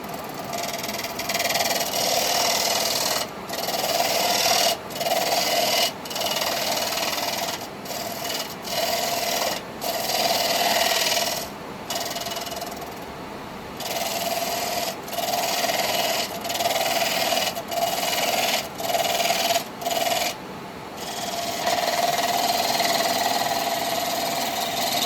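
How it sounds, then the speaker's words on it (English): A small spindle gouge cuts a spinning wood blank on a lathe, working gently around a knot: a steady rasping scrape broken by frequent short pauses as each cut lifts off, with a faint motor hum underneath. "let's use a small spindle gouge here"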